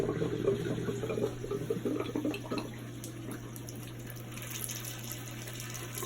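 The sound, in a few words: water running while filling hot water tank during plumbing startup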